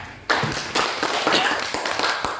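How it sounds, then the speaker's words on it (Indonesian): Classroom applause for a student after she explains arithmetic sequences, starting abruptly as a burst of clapping from several pupils that continues unevenly with scattered sharp claps. "Tepuk tangan buat Meida."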